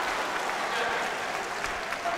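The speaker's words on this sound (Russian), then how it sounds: "Срывает он аплодисменты из зала." Applause in a fencing hall during a semi-final bout, a broad, sustained crowd clapping with a commentator's voice running over it.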